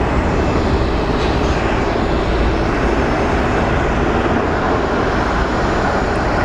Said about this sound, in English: So I guess we have an Airbus inbound as well.